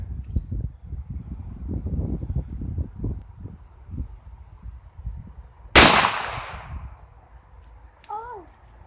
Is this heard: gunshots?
yes